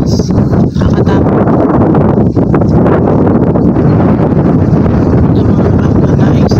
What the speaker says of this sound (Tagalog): Sobrang lakas ng hangin, saka yung alon ng tubig ang lalakas, nakakatakot.